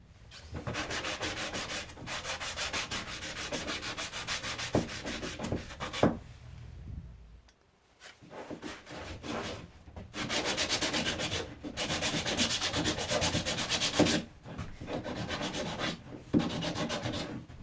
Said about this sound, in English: So spend a little while sanding